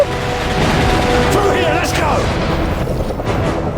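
Gunfire rattles in Call of Duty Modern Warfare 3, set amid a civil-war combat scene: loud, sustained bursts of shots and rumbling explosions that fill the whole stretch without pause.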